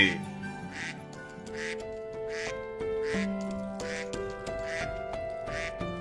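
A black cartoon duck quacks in a rhythmic series of nasal calls over a busy musical backing.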